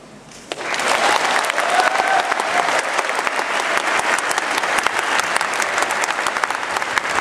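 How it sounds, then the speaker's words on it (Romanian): A live concert audience at the National Palace in Chișinău breaks into loud, sustained applause after the anthem Deșteaptă-te, române, with dense clapping that starts suddenly and holds steady. "Senzațional și cu aplauze."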